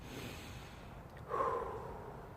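Outdoors among trees in a park, a person takes a soft, deep breath in, a brief airy inhale rising over faint ambient background.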